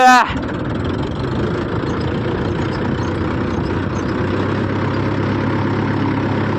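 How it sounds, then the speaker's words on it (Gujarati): A steady, low tractor engine drones at idle throughout, rumbling continuously with a brief louder burst at the very start. "બીજું થેપલું ભરવા હવે બેક ટ્રેક્ટર વાળા કરશે અને પેલા અમારે જયરાજભાઈ બેક કરશે"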